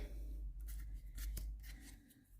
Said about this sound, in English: I got to get all the glue strings off of it though